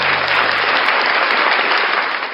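Audience applause at a live morning show, a dense, steady burst of clapping from a crowd that holds loud and even, then starts to fade at the end.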